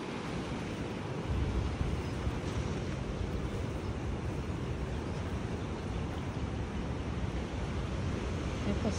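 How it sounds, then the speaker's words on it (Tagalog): Strong high-tide waves breaking along the shore in Honolulu, Hawaii, producing a steady, dense roar of surf that swells slightly after the first second and continues without pause. "Malakas ang alon."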